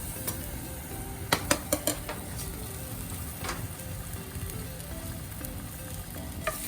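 Ginger and garlic frying in sesame oil in a pan for orange chicken give a steady, close sizzle, with a few sharp clicks of a utensil against the pan.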